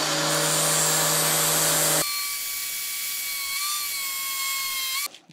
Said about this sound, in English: That is my homemade bench grinder.